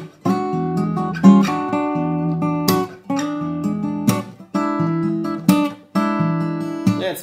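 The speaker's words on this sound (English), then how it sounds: "With a shuffle beat, of course, gives it a completely different feel." Fingerstyle blues guitar in E with a shuffle beat, swung bass notes and repeated chord stabs in a bouncing rhythm, played solo and up close, with short gaps between phrases.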